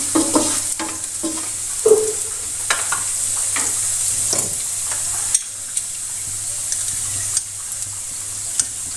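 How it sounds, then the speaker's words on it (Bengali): Onion, green chili and garlic fry in hot oil under a steady close sizzle, while a spoon stirs and scrapes the pan in scattered knocks throughout, with no speech. "এখন পেঁয়াজ কাঁচামরিচ রসুন ভালো করে নেড়ে চেড়ে ভেজে নেব।"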